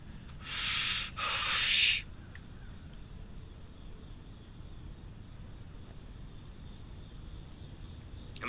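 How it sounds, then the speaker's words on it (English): Night insects chirp in a faint, steady drone outdoors, with a couple of loud breathy exhalations near the start. "I'm just hearing all the bugs,"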